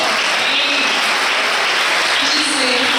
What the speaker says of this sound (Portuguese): por este motivo nós vamos aplaudi-lo